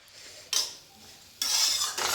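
A wooden or metal spoon scrapes and stirs moong dal paste as it roasts in a kadhai for halwa, in two short bursts of scraping with quieter pauses between them.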